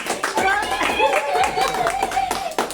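Family members clapping at home to celebrate the New Year, a lively close burst of handclaps mixed with chatter and a voice.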